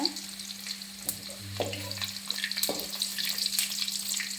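Thinly sliced red onions frying in a pan, a steady low sizzle with occasional clinks and stirring scrapes, no voices.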